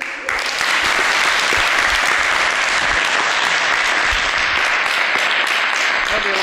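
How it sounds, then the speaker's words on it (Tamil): An audience at a Pongal special event bursts into loud, dense clapping after a short quiet start and keeps up an even, sustained round of applause. "உங்கள் கைத்தட்டல் மூலமாக காட்டுங்க பாப்போம்."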